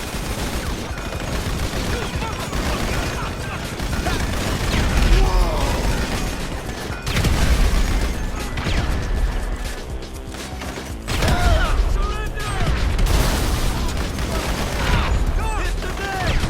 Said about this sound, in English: The turret on that thing!